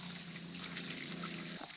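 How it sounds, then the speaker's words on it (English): Spring water trickles and splashes steadily during an outdoor wash on Nevis, a moderately faint, continuous liquid flow with no talking. "a clean-up session with spring water is in order"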